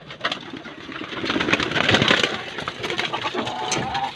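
Racing pigeons returning from a training flight coo and flutter close by, with scattered wingbeats and shuffling over a steady outdoor background.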